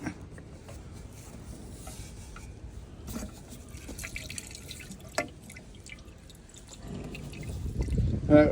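Water and antifreeze drip and trickle unevenly into a Massey Ferguson 550 tractor, swelling into a fuller pouring gush toward the end, close by with faint background noise.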